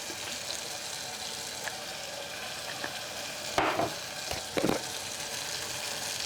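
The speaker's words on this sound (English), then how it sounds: "Stir it a little bit." Noodles with soy and oyster sauce are stirred in a frying pan, giving a steady sizzle with a few louder scraping bursts near the end, close up and without voices.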